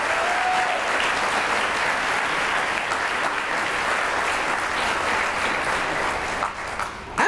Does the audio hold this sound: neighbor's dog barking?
no